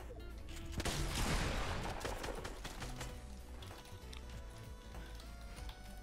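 Rocket launcher fire in Fortnite Battle Royale amid game combat, a loud blast followed by a run of sharp repeated shots and impacts, with no talk over it.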